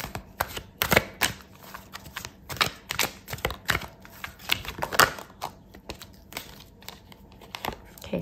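Tarot cards being shuffled and pulled for a Leo love reading, heard as a close run of crisp, irregular papery slaps and flicks with no voice.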